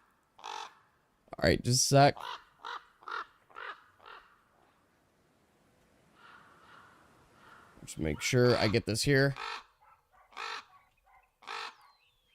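Caws like a crow's come from a recording played during a tabletop role-playing game session, arriving in bursts of several calls with pauses between them, while people talk over and between them.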